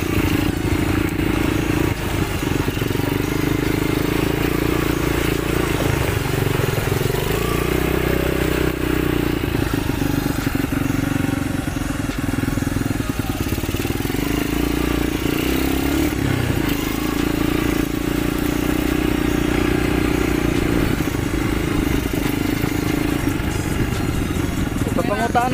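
Motorcycle engine droning continuously while riding, loud and steady with wind rush and road clatter, as a rider talks over it.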